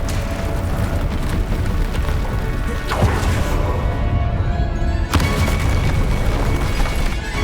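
Bombarda spell blasting a drill in the video game Hogwarts Legacy, heard as loud, sustained rumbling blasts with sharp cracks of impact partway through, all over dense game noise.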